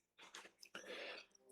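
Close, quiet chewing of a crunchy, sticky nougat chocolate bar, with a few crisp bites followed by wet, smacking mastication in short bursts.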